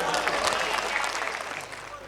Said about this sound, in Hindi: एक बार इनके लिए तालियां बजा दीजिए।